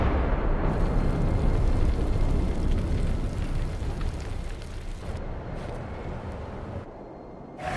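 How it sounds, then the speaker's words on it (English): A particle accelerator blows up in the Spider-Man 2 video game, releasing a loud, sustained roaring rumble that fills the scene before thinning out and fading toward the end. "The particle accelerator explodes"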